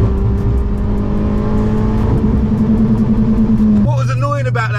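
A Toyota Yaris T Sport engine holds high revs and bounces off the limiter, a loud, stuttering buzz that drops in pitch near the end, with talking over it.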